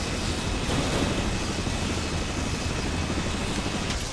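Turbine weapon in the game Dead Rising 3 roaring continuously, a loud broad whooshing drone with a deep rumbling underside that holds steady throughout, no voices.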